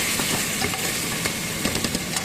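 Steady sizzling from a hot pan as tomatoes fry with onion, a continuous hiss dotted with small pops and crackles.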